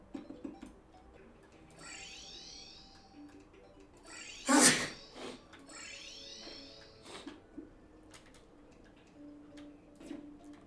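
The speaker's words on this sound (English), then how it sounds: "I just had a big sneeze." One big sneeze bursts out loudly over a quiet background of chirpy electronic sweeps and light ticking, with no talking.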